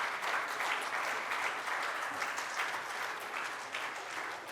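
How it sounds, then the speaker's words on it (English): An audience in a hall claps together in sustained, dense applause, even and moderately loud throughout, easing slightly toward the end. "can we thank everyone with a nice big round of applause?"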